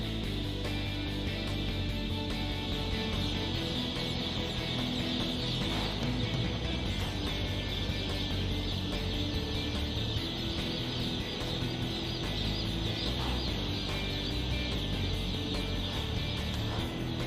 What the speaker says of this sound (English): they run around making a lot of noise